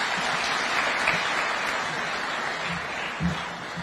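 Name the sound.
audience applause after a speech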